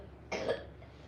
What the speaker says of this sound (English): I just, like, kept on coughing over and over again.